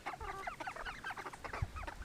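A flock of chickens on a farm in fall clucking and murmuring continuously, fairly quiet and somewhat distant, with overlapping calls.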